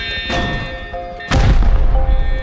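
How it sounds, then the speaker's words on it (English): A loud boom from an explosion in the survival game Rust, with a sharp blast early on and a heavier, sustained explosion in the second half over faint background tones. "that explosion"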